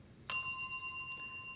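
A single bright bell ding strikes sharply and rings on with a clear, slowly fading metallic tone, alone in near silence.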